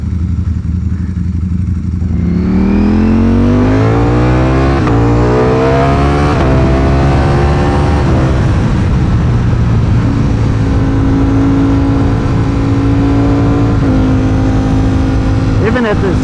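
A Ducati Streetfighter V4 motorcycle with an aftermarket exhaust and dry clutch roars as it accelerates, its loud engine climbing through rising revs with gear changes, up close and alone for about sixteen seconds.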